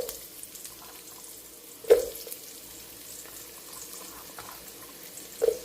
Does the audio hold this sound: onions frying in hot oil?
yes